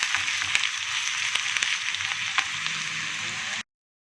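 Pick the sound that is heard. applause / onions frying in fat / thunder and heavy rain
onions frying in fat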